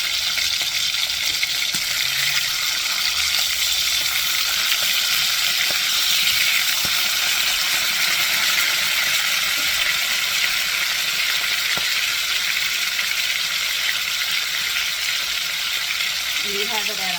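Very thin slices of liver frying over high heat in a hot pan, giving a loud, dense, unbroken sizzle that runs the whole time with only faint clicks of handling.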